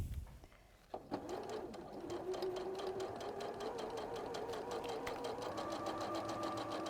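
A sewing machine stitches interfacing in a fast, even rhythm, running steadily close by after a brief start.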